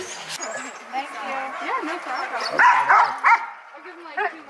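Husky sled dogs at a mushing camp give excited yips, whines and short barks. The dogs sound close, with someone talking over them throughout.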